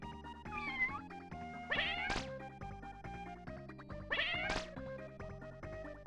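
Cartoonish cat meows from a video game underwater level, several short rising and falling calls in two clusters, layered over steady game music with sharp percussive hits.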